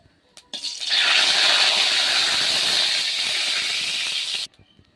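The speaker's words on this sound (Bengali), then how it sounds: "এখানে তেল দিয়ে দিলাম তেলটা গরম হতে হতে এখানে আমি দিয়েছি একটু জিরে আর দিব তেজপাতা" Cumin seeds and bay leaf sizzle in hot cooking oil with a loud, steady hiss that starts abruptly, holds for about four seconds and cuts off suddenly, with a few small clicks before it begins.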